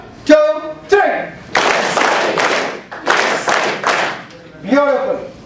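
A group claps together in steady unison bursts, loud and close in a hall, with a voice heard briefly before and after the clapping.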